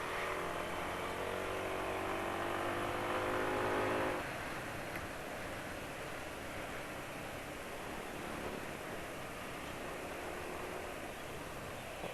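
A motorcycle engine revving under throttle for about four seconds, then the throttle released to a lower, rougher idle-like drone, heard at moderate distance with broadband noise and no talk.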